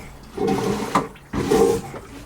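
A marine toilet on a sailboat flushes seawater in two close, loud whooshing surges separated by a brief pause, with gurgling water and no talking.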